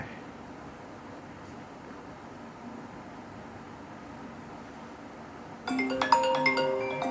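An iPhone rings with an incoming call, its melodic ringtone cutting in abruptly near the end over a steady background hiss, fairly clear and close.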